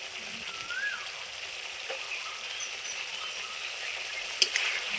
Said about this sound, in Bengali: মশলাটা আমি খুব সুন্দর করে কষিয়ে নেব যতক্ষণ না তেল ছাড়ছে ততক্ষণ।